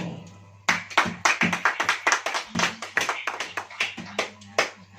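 A congregation claps hands at a Hindi church sermon, a dense burst of rhythmic clapping starting abruptly and continuing steadily, loud and close, with a low hum underneath.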